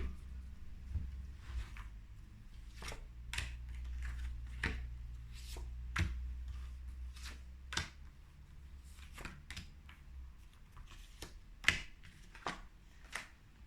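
A deck of tarot cards being cut and handled, with repeated crisp slaps and riffling snaps close up, irregularly spaced, with almost no talking.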